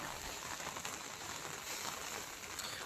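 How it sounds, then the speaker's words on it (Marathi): Monsoon drizzle falls during fishing in the Konkan, a soft, steady broadband patter and hiss that holds even and faint for the whole stretch, with no voices. "पाणी बघा कसं वरतून येते खाली. रिमझिम रिमझिम पाऊस धारा"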